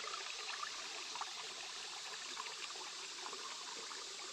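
A small stream at a water source along the Appalachian Trail trickles in a quiet, steady, continuous wash, heard alone without voices.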